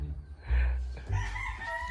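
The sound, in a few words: rooster crowing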